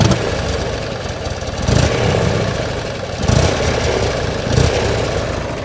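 A Buell XB12X motorcycle with its stock exhaust revs three times over a loud, close idle, each blip swelling briefly before dropping back to the throbbing V-twin rumble.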